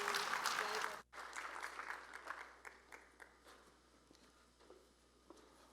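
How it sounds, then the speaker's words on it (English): Applause for a panel at a recruiting event: a brief burst of clapping that breaks off, then resumes as scattered claps fading to a few isolated ones. "Let's give them another round of applause."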